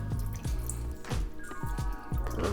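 Liquid dripping and trickling as lime juice and salt drain from cut-up beef tripe for menudo, a steady run of wet drips and splashes at close range, with no talk.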